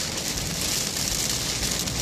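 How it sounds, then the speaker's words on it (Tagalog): Steady, dense hiss of rain falling continuously and fairly loudly, with no pauses, on the road ahead while travelling to Romblon, Philippines. "Siguradong umuulan to sa unahan mga paps."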